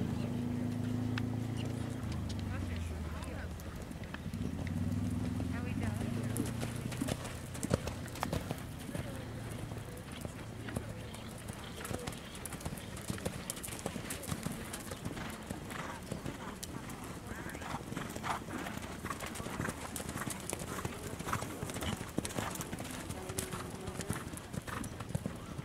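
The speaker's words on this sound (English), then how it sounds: "Canter, please." Horses canter around the arena at an IEA horse show flat class, their hoofbeats a continuous rhythmic drumming with an occasional whinny while an announcer speaks over a loudspeaker.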